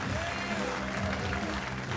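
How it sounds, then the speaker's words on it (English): Audience applause for ventriloquist Martin Beaumont, a steady, dense clapping from a crowd that fills the whole stretch, with music or voices murmuring faintly underneath. "That deserves another round of applause"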